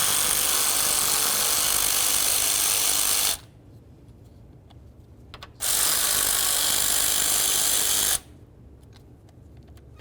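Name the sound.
power tool removing fan mounting bolts, 1998-2002 Honda Accord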